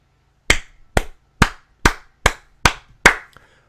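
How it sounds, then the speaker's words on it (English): Seven sharp, evenly spaced hand claps ring out alone, a slow, measured golf clap with short pauses between each, given on a wrestling podcast. "the golf clap"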